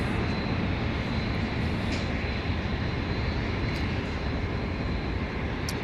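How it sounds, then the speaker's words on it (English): A Bombardier Challenger 605 business jet passes near Dallas Love Field, its engine roar a broad, steady rush at moderate distance that holds for several seconds without fading; no one speaks. "Bombardier Challenger 605 on its way to a unspecified destination."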